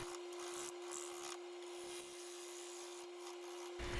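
A 3/4 inch bowl gouge cuts an applewood bowl blank spinning on a wood lathe, giving a steady close scraping, rasping hiss over a constant motor hum, with brief interruptions as the tool lifts off.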